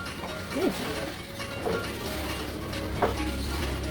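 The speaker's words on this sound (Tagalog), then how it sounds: "haluin lang natin" A dishwashing liquid and cooking oil mixture for homemade pesticide spray being stirred by hand, with soft scraping and clinking strokes in a container, repeated a few times at close range over low background hum.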